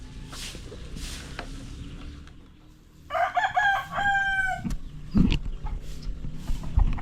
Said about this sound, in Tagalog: Ito yung pong soon to be poultry natin. Poultry farm. Chicken farm.